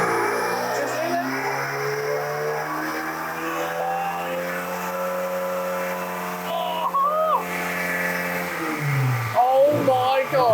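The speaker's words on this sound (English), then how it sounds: "this car sounds so good" Rebuilt, formerly very rusty car engine running steadily on a dyno, a sustained loud harmonic drone with pitch shifts near the end, people talking over it.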